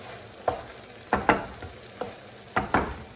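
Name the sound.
stirring pasta with zucchini in a frying pan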